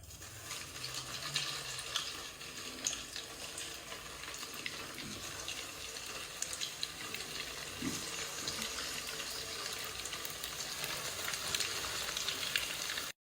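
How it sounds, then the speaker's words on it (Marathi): Steady, faint crackling sizzle of bread roll balls frying in hot oil, continuous throughout with occasional soft pops. "आता त्यामध्ये आपण बॉल सोडून फ्राय करूयात."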